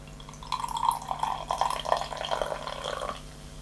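Red Bull pours into a glass up close, a bubbly, splashing trickle that starts after a short pause, runs for about three seconds, then tapers off.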